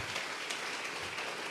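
A church congregation at a Sunday service claps together in a dense, steady patter that holds at an even level for the whole moment, with no voices on top.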